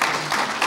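Audience applause at the close of a HOPE X hacker conference talk in 2014, a dense, steady wash of many hands clapping together, loud and sustained throughout with no speech.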